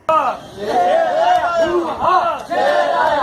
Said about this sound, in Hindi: नारों की आवाज़ आई